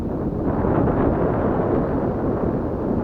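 Wind buffets a microphone out on the water while fishing for crappie, a dense continuous low rumble and roar that fills the clip with no other sounds.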